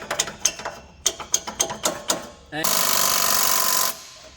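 About a dozen sharp metallic taps ring out in quick bursts while a part is driven in during a front shock replacement on a Mitsubishi Pajero. A loud, close impact wrench whirs continuously for over a second right after.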